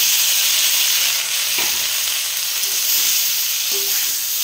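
Potato pieces and drumstick stems fry in oil in a pan with a dense, continuous sizzle and hiss, broken by a couple of faint stirring knocks.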